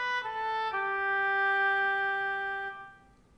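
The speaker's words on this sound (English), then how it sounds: "There's an oboe." An oboe sounds two quick pickup notes and then a single sustained tone that fades out, played alone, close and clear.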